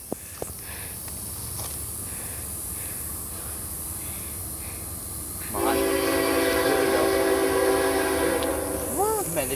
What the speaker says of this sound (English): this is the second train we've seen today